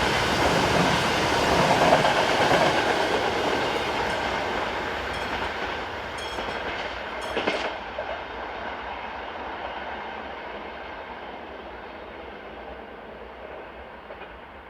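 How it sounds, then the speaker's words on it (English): A train hauled by locomotive 383107, bound for Bratislava, passes a station on the Tatra Mountain route in Slovakia, a steady rolling rumble with wheel clatter that fades gradually toward the end. "383107 heads a train for Bratislava"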